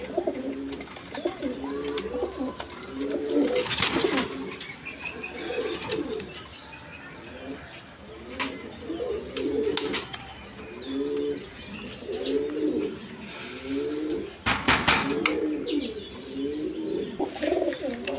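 Red Rajgolla pigeons coo over and over in rolling, throaty phrases, close and fairly loud, with occasional chirps and brief sharp rustles or wing flaps between them.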